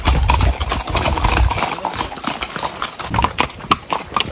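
Horse hooves clip-clop steadily as riders travel on horseback toward a river crossing in cattle country, with loud, close, irregular hoofbeats and a faint voice in the background.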